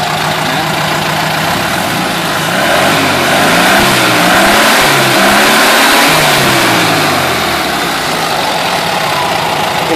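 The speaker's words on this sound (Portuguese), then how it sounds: "E o funcionamento do carro, não tem muito segredo." A Volkswagen Beetle (Fusca) engine runs steadily, loud and close, with a brief rise in revs midway before settling back to a smooth idle, no voices over it.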